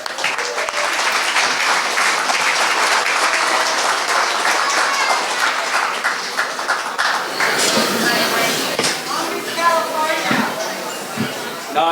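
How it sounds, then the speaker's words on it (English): Audience applause for a performer at a brewing company's Saturday night show, a broad wash of clapping that tapers after several seconds into scattered claps, cheers and talking voices. "Let's give a round of applause for John."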